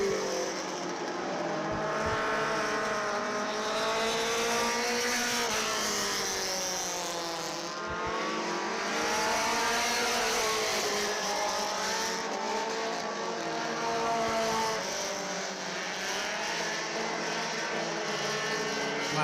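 Several Super 4s division race cars at Dixieland Speedway rolling toward the track, engines droning and revving in layered, wavering tones, loud and continuous with a brief dip midway.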